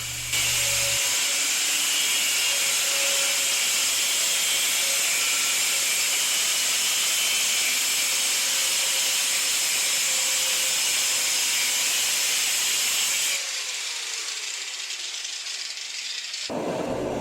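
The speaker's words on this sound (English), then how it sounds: "My homemade propane forge is heated to a little over 2000 degrees" A homemade propane forge roars steadily while heating steel for a katana blade, its temperature a little over 2000 degrees. The loud, even, broadband rush holds for about thirteen seconds, then drops abruptly to a quieter hiss.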